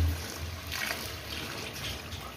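Water poured from a glass into a pan of fried peas for matar pulao, a soft steady trickle with a gentle splash, faint and close, with nothing else over it.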